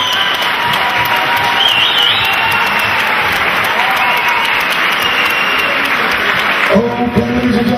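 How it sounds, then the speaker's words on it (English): A fight crowd gives a thick, sustained round of applause and cheering for both fighters after a tap-out win by rear naked choke, loud and continuous until it drops away near the end. "let's have a massive round of applause for both fighters"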